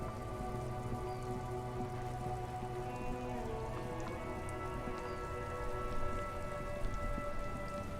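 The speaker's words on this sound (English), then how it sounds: "Stuck in the rain in a traffic jam," Steady rain in the video game Disco Elysium patters across surfaces, soft and continuous, with a faint low rumble underneath.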